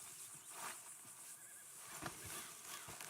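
A horse in Red Dead Redemption 2 whinnies faintly amid soft clip-clop hooves and low background ambience, with no one speaking.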